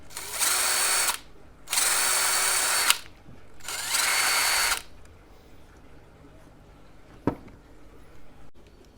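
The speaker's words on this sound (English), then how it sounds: "That sounds really nice with that brushless motor." Three short bursts of a DeWALT brushless cordless drill motor whirring up close, each about a second long, followed by quiet room noise and a single click.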